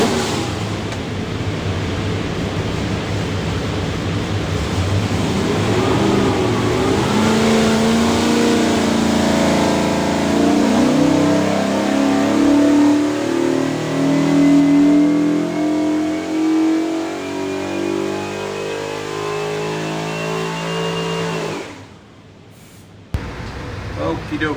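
A Ford 363ci V8 in a Factory Five Daytona Coupe revs hard on a dyno, rising steadily in pitch through a long, loud pull before cutting off abruptly near the end.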